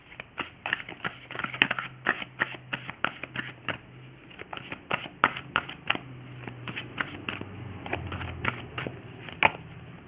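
A deck of tarot cards is shuffled and drawn, with rapid close riffling bursts and crisp card snaps in an irregular rhythm, alone and clearly audible.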